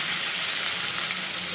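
Sliced onions go into hot oil left from frying rohu fish, producing a dense, even sizzle that stays loud and continuous for a moment.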